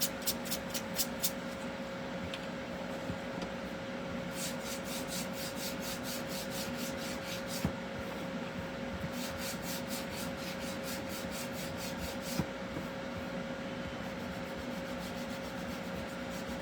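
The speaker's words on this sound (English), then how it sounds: "gonna do is sand our snowmen" Wooden snowman ornaments from a primitive Christmas craft kit are sanded by hand, a continuous close scratchy rubbing with occasional light taps, steady throughout.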